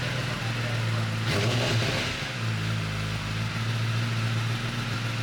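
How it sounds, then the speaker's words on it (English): A 2023 Kawasaki ZX10R motorcycle with an Akrapovic titanium slip-on exhaust idles with a deep, steady hum, then blips the throttle into one brief rising rev before settling back to idle. "Akrapovic exhaust on the 2023 ZX10R"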